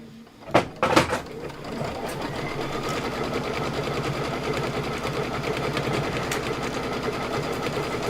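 A sewing machine stitches a trim placement line on a Sweet Land of Liberty pillow, starting after a couple of sharp knocks and then whirring in a fast, steady, close mechanical rattle to the end.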